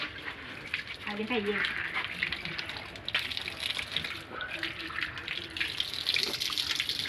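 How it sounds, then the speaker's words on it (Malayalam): Mangoes being washed under a running kitchen tap, a steady broadband rush of water with splashing and handling noises throughout, while a voice talks faintly in the background. "നമ്മുടെ മാങ്ങ ഒക്കെ കഴുകാൻ പോണ്."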